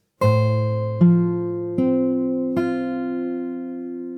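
Fingerstyle acoustic guitar picks out the Animal Crossing New Horizons theme, four plucked notes and chords ringing on and overlapping, close and clear with no voices.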